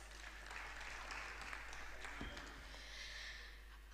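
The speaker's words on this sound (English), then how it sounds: "Please give us a round of applause." Audience applause in a large hall at a university convocation lecture ceremony, a steady dense wash of clapping for several seconds at a moderate distance, with a faint low hum underneath.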